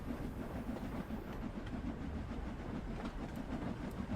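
A steam train in Train Sim World 3 labours up a steep gradient, its rapid, regular chuffing beats rolling steadily under a low rumble and hiss on the rails.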